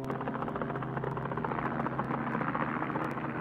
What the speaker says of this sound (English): a helicopter carrying the Army's divisional commander flew into their shrinking perimeter